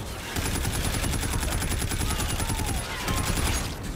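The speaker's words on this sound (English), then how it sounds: "Who is shooting me? Who's shooting me?" Rapid, continuous automatic gunfire from the Call of Duty: Infinite Warfare video game, loud and dense almost throughout with a brief lull near the end, no speech over it.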